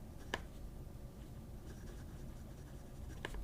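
A fountain pen with a number 8 steel medium nib writes on paper, giving a faint, steady scratch throughout with a couple of slightly sharper taps, close up and alone.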